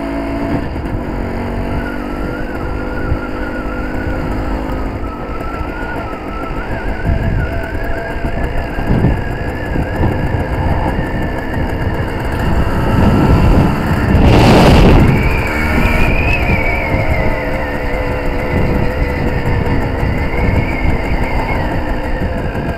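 Suzuki TS185 two-stroke motorcycle on a road test after a carburettor jet change, engine burbling and revving with rising and falling pitch, swelling to a loud close pass in the middle, no talking.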